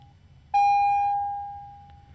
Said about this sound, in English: I don't know what this beeping is